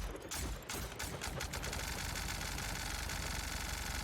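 A gun fires in The Outer Worlds, a short burst of several sharp shots at the start that fades into a steady mechanical hum and hiss.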